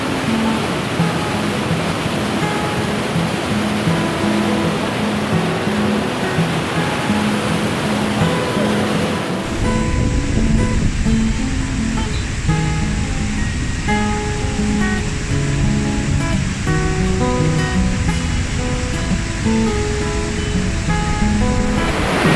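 Waterfall near Chitta Katha Lake, a loud, continuous rushing roar of falling water heard close by with no pauses, growing denser and heavier midway through.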